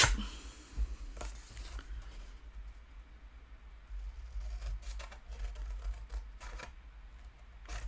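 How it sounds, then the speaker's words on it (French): Scissors snipping paper strips while making a Tatin-style box from autumn-mood patterned papers, a few short crisp cuts spread over several seconds against a quiet, low-level room background. "Voilà, on va maintenant découper nos languettes."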